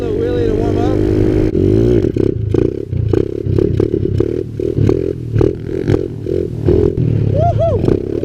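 Pit bike engine, a KLX 110 or Apollo X19, revs hard during a wheelie, loud and close with rising and falling whine, clatter and wind buffeting, while a rider's voice is heard over it.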